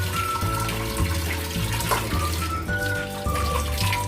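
Water runs steadily for several seconds as it is poured into a dish while steamed hilsa (ilish bhapa) is being prepared in a Bengali home kitchen, a close, continuous splashing with a low hum beneath.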